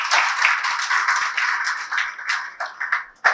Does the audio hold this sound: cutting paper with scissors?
no